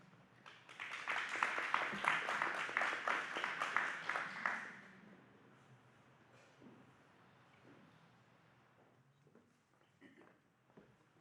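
Audience applause at a city council health committee meeting on flavored tobacco, a burst of clapping from a room of people lasting about five seconds before fading into quiet room noise and a few faint movements.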